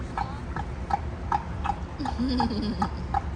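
Horse hooves clip-clop in a steady, even rhythm, about ten clear knocks, with a brief voice-like murmur partway through.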